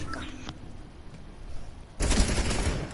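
Gunfire in Fortnite during a live-streamed match: a quiet stretch gives way to a loud burst of rapid shots near the end, close and dense.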